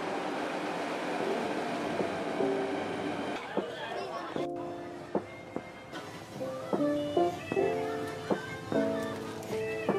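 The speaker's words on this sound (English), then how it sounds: "the subway system in Beijing is actually really nice" Ride aboard a clean, air-conditioned Beijing subway train: a steady rumble of the moving car with faint rattles and clicks, while people talk nearby throughout.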